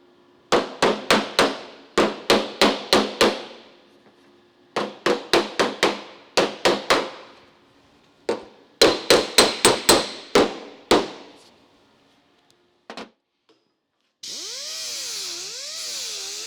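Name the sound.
hammer and dolly on metal panels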